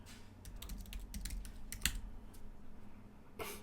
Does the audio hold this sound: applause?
no